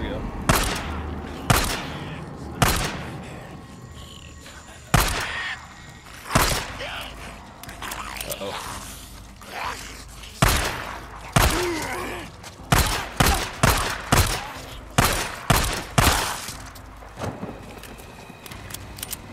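Gunfire from a shootout clearing a bandit camp in the game Days Gone: sharp single shots spaced irregularly, then tightening into rapid bursts in the second half over a low ambient bed.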